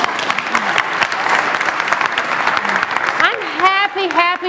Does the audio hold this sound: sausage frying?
no